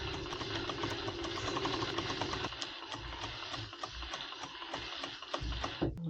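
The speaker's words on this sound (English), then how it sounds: "I will still lock the ends with the lock stitch machine" A lockstitch sewing machine runs steadily while stitching a waterproof softshell jacket, a fast mechanical whirr with rapid ticking that slows to separate stitch clicks, close and moderately loud, with no talk.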